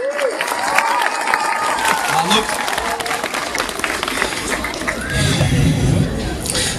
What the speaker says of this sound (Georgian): კიდევ ერთხელ მქუხარი აპლოდისმენტები